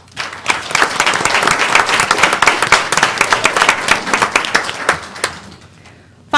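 Sustained applause from a school board meeting audience, dense clapping at steady volume for several seconds before tapering off abruptly.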